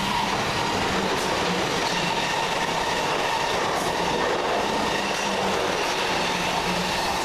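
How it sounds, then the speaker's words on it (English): Passenger train on a Waterloo to Weymouth service passing near Swaythling, a steady loud rumble with wheel clatter on the rails that holds for the whole stretch without pause. "Next up to come around the corner, 1 Whiskey 69 from London Waterloo to Weymouth."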